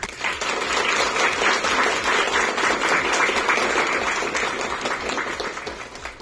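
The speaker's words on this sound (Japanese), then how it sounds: "それでは虎の5名の皆様と、あとガッツでチャレンジされた平井さんにもう一度大きな拍手をお願いします。" An audience gives sustained applause at the close of a business pitch event, dense steady clapping that holds loud for several seconds before tapering slightly.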